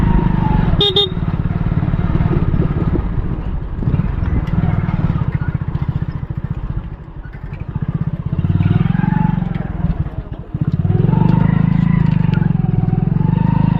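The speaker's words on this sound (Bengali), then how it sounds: "বন্ধুরা রয়্যাল এনফিল্ডগুলো ঠিক এগিয়ে যাচ্ছে আমাদের থেকে।" Royal Enfield motorcycles riding along a village road, a loud thumping engine drone close by that dips midway and swells again, with a brief horn toot near the start.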